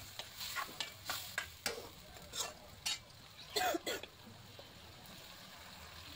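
Fish and onion are stirred in a pan after parboiling in water, giving a series of soft scraping strokes and light clinks over a quiet low sizzle, fairly faint.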